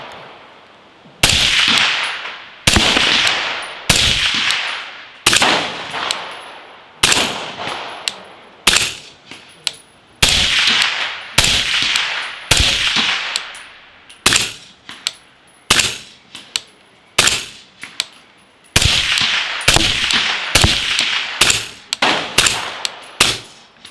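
Suppressed 300 Blackout rifle firing Magtech supersonic and subsonic rounds: a long series of sharp, loud cracks, sometimes single and sometimes in quick back-to-back bursts, each followed by a brief ringing decay, with no talk.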